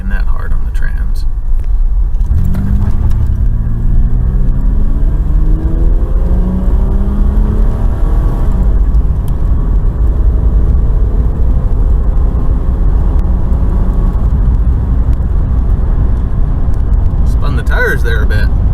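A 1991 Oldsmobile Cutlass Ciera with newly replaced fuel injectors accelerates hard on a test drive, its engine note climbing in rising sweeps over a heavy, continuous road rumble inside the car.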